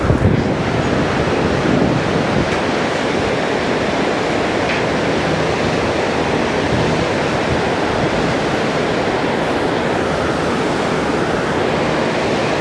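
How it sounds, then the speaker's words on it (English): Rushing river water heard from a bridge on the mountain trek between Phakding and Namche Bazaar, a steady, loud, unbroken roar that holds evenly from start to finish with no voices. "Hear the water, the sound of it."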